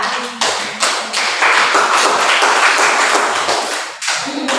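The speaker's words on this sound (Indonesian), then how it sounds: "Tepuk tangan Bu Ira yang langsung jawab ya." Classroom applause for a teacher: a close, loud burst of many hands clapping in quick, uneven rhythm, starting abruptly and holding steady for several seconds before tapering off.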